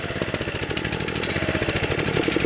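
A Kawasaki 6.75 engine on a DR walk-behind trimmer that sat too long runs at a steady idle but won't rev up, giving a rapid, even chugging pulse that stays moderately loud throughout.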